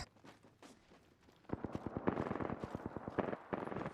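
Rapid bursts of gunfire in a video game on a budget gaming PC (Xeon E5 2670-V3, RX 580 8GB), quiet for the first second and a half, then loud, fast repeating shots with a short pause near the end.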